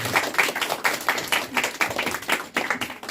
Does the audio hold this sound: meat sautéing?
no